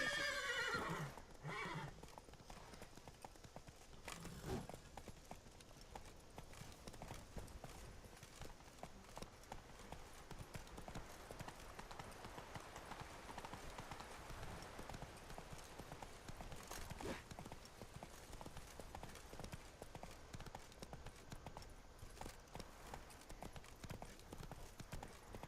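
Hooves clip-clop steadily throughout as a horse moves in The Witcher 3: Wild Hunt – Blood and Wine, with a loud neigh near the start over continuous ambient game background.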